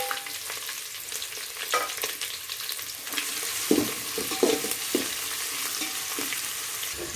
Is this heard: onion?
yes